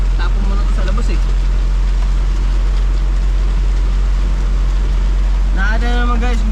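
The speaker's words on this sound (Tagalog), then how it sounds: "Nakita na naman guys kung gaano kalakas sa ulan na yan oh." Heavy rain drums steadily on a vehicle as a constant dense wash, with a low engine hum underneath and a few short bursts of sound near the start and end.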